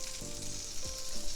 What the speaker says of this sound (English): Now we're just going to start frying in little bunches